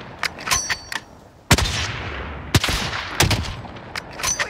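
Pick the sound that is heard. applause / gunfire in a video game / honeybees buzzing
gunfire in a video game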